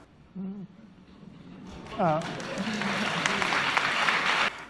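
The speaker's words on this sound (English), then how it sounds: "watch how I'm leaving the applause break in on this one." Applause breaks out at a Google post-election TGIF company meeting, swelling from quiet into a sustained crowd clapping that runs to the end, with a few spoken voices near the start before it builds.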